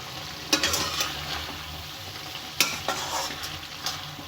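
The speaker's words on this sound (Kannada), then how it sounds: "ಹಸಿ ವಾಸನೆ ಹೋಗೋ ತನಕ ಇದೇ ರೀತಿ ಫ್ರೈ ಮಾಡ್ಕೊಳ್ಳಿ, ತಳ ಹತ್ತದಂಗೆ." Ginger garlic paste sizzles in a pan as a spoon stirs it, with sharp scraping strokes in two bursts over a low frying hiss, for chicken chitranna rice.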